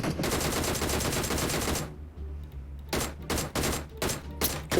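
Rapid automatic gunfire from an Uzi and other weapons during a PUBG Mobile match: a dense sustained burst of shots, a short pause, then several more loud bursts in quick succession.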